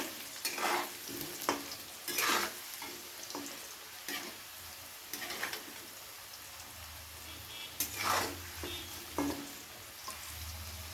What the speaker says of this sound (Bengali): আলুগুলোকে হালকা লাল লাল করে ভেজে নিতে হবে